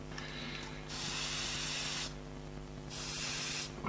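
An airbrush sprays paint past a shield in short hissing bursts, three steady bursts of spray separated by brief pauses over a low background hum.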